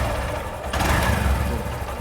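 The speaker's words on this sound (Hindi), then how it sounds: "अभी यहाँ पे देखिए बाइक मिसिंग मार रहा है।" A Honda SP 125 BS6 motorcycle engine with a spark fault runs roughly, misfiring with an uneven, sputtering idle and a brief surge, close and fairly loud with no talk.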